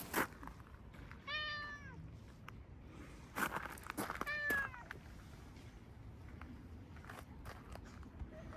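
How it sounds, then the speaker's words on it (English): Several stray cats meow on the Philosopher's Path in Kyoto, a quiet stone-lined walkway, with two clear drawn-out meows a few seconds apart amid soft footsteps and faint outdoor ambience. "There are always several stray cats hanging out here."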